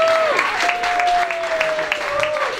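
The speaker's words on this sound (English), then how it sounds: "give them a big round of applause" An audience at a polo prize-giving ceremony claps in a sustained round of applause, with a voice or tonal whistle carrying over the clapping.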